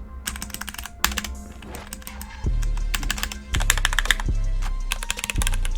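Rapid clicky keystrokes on a mechanical keyboard with Cherry MX Silver switches, bursts of typing with brief pauses and a low hum underneath, close and fairly loud.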